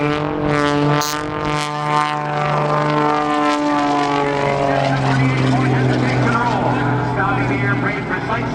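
Propeller aerobatic airplane performing snap rolls at the NAS Oceana airshow, engine droning and shifting pitch as it maneuvers, heard under a loud announcer's commentary.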